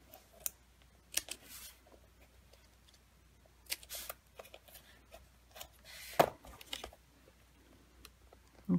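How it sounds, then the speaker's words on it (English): Scissors snip through a piece of cardstock in a quiet room, with a few sharp, separate cuts and handling taps spread out and close by. "So let me trim this some more."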